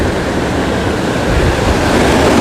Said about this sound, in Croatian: A za sve je kriv ovaj vodopad.